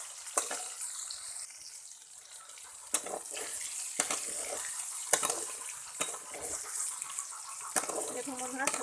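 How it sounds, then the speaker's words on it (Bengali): Soybean chunks fry in hot oil, giving a steady broadband sizzle with intermittent crackling bursts. A voice speaks over the frying now and then. "ওই তেলে আমি সোয়াবিনটা ভেজে নেব। সোয়াবিনটা একই রকম করে লাল করে ভেজে নেব।"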